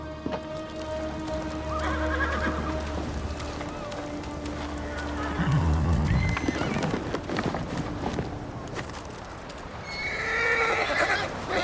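A horse whinnies and snorts while hooves clop in Ghost of Tsushima, mixed with game ambience and a low tone; a voice speaks briefly partway through.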